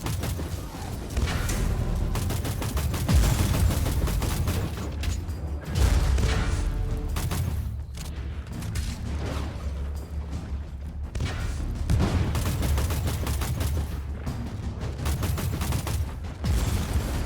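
Heavy artillery and gunfire in the video game Warhammer 40K Inquisitor - Martyr: loud, continuous volleys of booming shots and rapid bursts rolling on with only brief dips, no talk.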